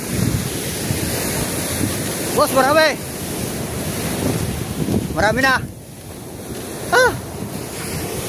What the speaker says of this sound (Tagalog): pupunta muna po tayo dito sa baybayin po ng dagat